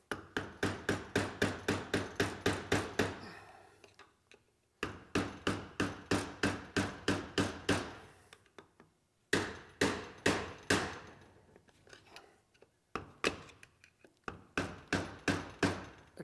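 Repeated sharp hammer blows drive a screwdriver into a seal, struck in fast rhythmic bursts of about ten hits with short pauses between, close and loud with no talking.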